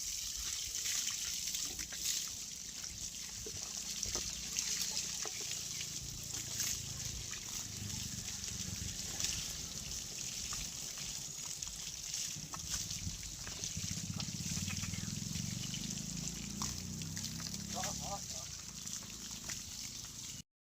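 Water trickles and sprays steadily while clay bull figurines are washed for the soil-bull new-moon festival, a faint continuous hiss with someone talking at points.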